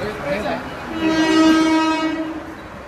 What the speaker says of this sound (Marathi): अशा प्रकारे आम्ही ट्रेनने प्रवास चालू केला